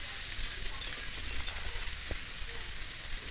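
Chopped onion frying with prawns and raw sprouted chickpeas in a pan, making a steady, close, loud sizzle throughout.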